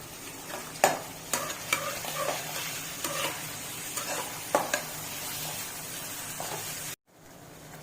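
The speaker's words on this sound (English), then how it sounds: "Now we will saute onion till it's pink in color." Onion sautéed in ghee sizzles steadily in a pan, with repeated scraping stirs and light clicks at close range, then cuts to near silence at the end.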